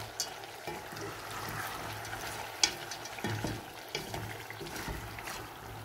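Mutton sizzles and fries in a pan with ginger and garlic as a home-style korma cooks, a steady crackle with occasional stirring clatters and scrapes, close and moderately loud with no voices.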